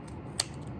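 A single short snip of scissors cutting while making a hat ornament, one crisp close click, quiet and isolated.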